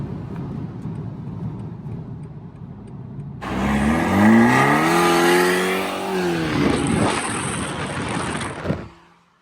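After a quiet stretch of background crowd noise at a car meet, a BMW F30 exhaust suddenly bursts in with loud rising and falling revs, a sustained close roar that fades out near the end.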